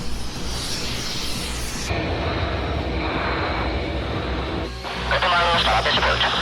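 A Saab Gripen fighter jet flying a display roars loudly and continuously, its engine noise shifting in tone as it passes, with radio chatter mixed in.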